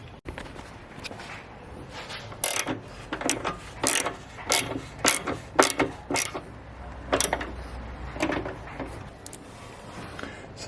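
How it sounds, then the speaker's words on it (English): Ratchet clicks in short, uneven bursts as 10mm bolts are tightened on the ECU of a Ford Ranger with a 2.2 or 3.2 engine, close and fairly quiet against a low background hum. "So it's just a matter of tightening up those two 10mm bolts and going from there."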